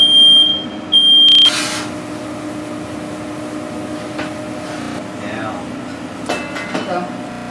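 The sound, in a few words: smoke alarm beeping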